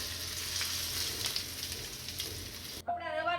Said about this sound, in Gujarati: લીલી મરચી નાખીશું મીઠો લીમડો નાખીશું હવે આને વઘાર કરી દઈશું